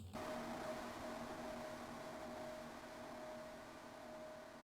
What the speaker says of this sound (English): I took a distortion feedback trail